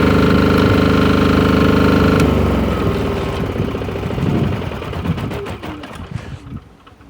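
An MEP 831A generator engine runs with a loud steady droning hum, then winds down into an uneven, fading rattle and chug as it slows toward a stop.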